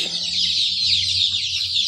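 A dense chorus of 20-day-old black chicks chirping, high-pitched peeps overlapping continuously and close by, with a faint low hum underneath.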